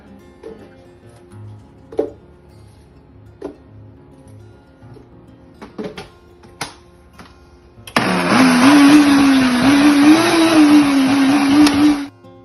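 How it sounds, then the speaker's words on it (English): A small Ninja blender powders raw eggs, running loud and steady for about four seconds with a rising, slightly wavering motor whine after several soft knocks and handling clicks. "I'm gonna powderize these in the little Ninja blender real quick"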